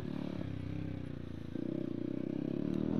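A Yamaha FJR 1300 motorcycle at a bike night, its engine idling and then rumbling louder in a steady low throb, fairly close and heard on its own.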